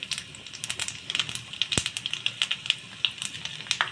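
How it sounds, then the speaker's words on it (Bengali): Dry red chillies, bay leaves and panch phoron fry in hot oil in a kadai, giving a faint, steady crackle and sizzle with scattered sharp pops. "কড়াতে তেল গরম করতে দিয়েছিলাম, এতে দিয়ে দেব শুকনো লঙ্কা ও তেজপাতা, আর দিয়ে দেব পাঁচফোড়ন।"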